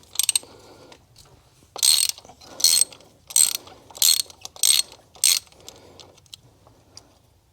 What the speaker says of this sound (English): let's go ahead and pull spark plugs